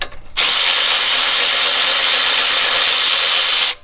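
A ratchet wrench spins rapidly, loosening the main alternator nut on a four-cylinder petrol Hyundai Tucson. One continuous close, loud burst of clicking lasts about three seconds.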